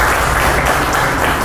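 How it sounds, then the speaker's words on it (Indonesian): Steady applause from an audience at an Indonesian cultural talk event, a dense continuous patter of many hands clapping with no pause across the short stretch. "Kita beri tepuk tangan lagi untuk mahasiswa."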